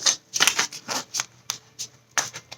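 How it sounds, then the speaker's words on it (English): A tarot deck being shuffled up close, with several quick riffling bursts and soft slaps separated by short pauses, no talking. "Let me shuffle my deck."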